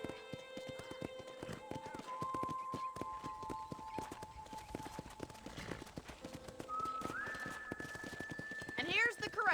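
Rhythmic clip-clop of horse hooves trotting at a ranch corral in Red Dead Redemption, with tonal melodic notes and voices mixed in, a whinny-like rise near the end.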